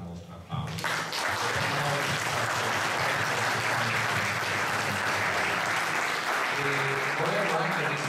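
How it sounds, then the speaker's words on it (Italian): Sustained applause at an award ceremony for the 5th Vittorio Minasi Memorial starts abruptly after a brief pause, then holds as a dense, even crowd clapping for several seconds. "per il quale vi chiedo ancora una vostra applauso."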